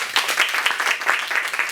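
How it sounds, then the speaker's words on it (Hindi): Audience applause at an entrepreneurship development program session, a short, steady burst of many hands clapping at moderate volume with a faint voice underneath. "अच्छा एक बार तालियां बजा दीजिए"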